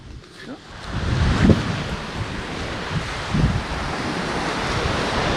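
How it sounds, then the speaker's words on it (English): Ocean waves wash onto a Cape Cod beach near Provincetown, Massachusetts, with gusty wind buffeting the microphone in a loud, continuous roar of surf. "It's such a nice beach."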